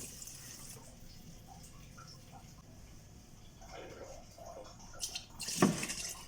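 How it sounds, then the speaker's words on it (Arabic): Water poured from a measuring container into a vessel of dates to make homemade date vinegar: a short, close splash and trickle near the end, preceded by quiet room tone. "هسه راح اضيف له المي مقدارين بهاي اللي كنت قايسه بيها التمر"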